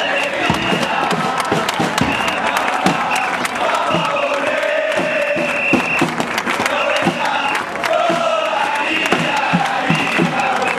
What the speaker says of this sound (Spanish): aplauso, llegó la banda del oeste